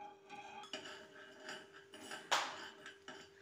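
A metal spoon stirs thick sugary lemon pickle syrup in a pan, scraping and clinking against the metal in irregular close knocks, one louder clank midway, over a faint steady hum.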